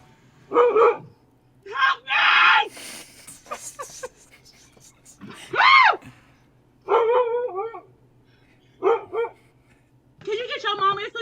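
A dog barks and yips in short separated bursts, several distinct calls spaced across the stretch, fairly close, with quiet gaps between.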